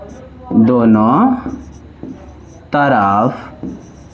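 Pen or chalk scratching during a Class 10 maths lesson, with short bursts of writing in the gaps between a teacher's spoken explanation.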